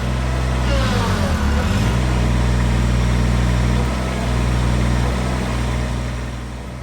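A Kubota BX23S compact tractor labors in four-wheel drive and low gear through sand, its diesel engine droning loud and close, pitch dipping under strain then holding steady.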